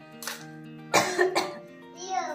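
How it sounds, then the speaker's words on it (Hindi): A girl coughs a few times in short bursts, a fever and cough after getting soaked in the rain two days earlier, with voices speaking around the coughs. "और खांसी भी हो रही है"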